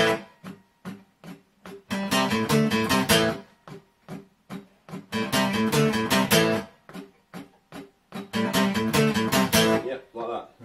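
An acoustic guitar plays a rock riff, bursts of fast strummed chords alternating with short choppy stabs and sudden stops, loud and close, repeated three times with no talking over it.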